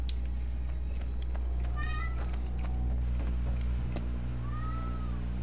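A cat meows in a room inside the PS2 game Quantum of Solace, a few short rising and falling calls over a steady low engine-like hum and background noise.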